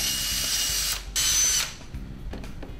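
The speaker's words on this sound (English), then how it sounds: "go and drill the holes you need for permanent installation" A power drill bores mounting holes in a vehicle with two loud, high-pitched bursts of whirring separated by short pauses, followed by quieter clicks and handling noises.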